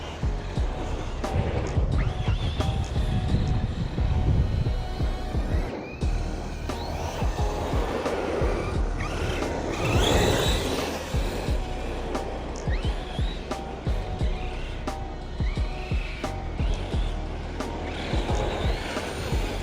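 An Arrma Kraton 6S RC car skids and drifts across loose dirt, its electric motor whining and revving continuously. Gravel crunches and tires scrabble close by throughout.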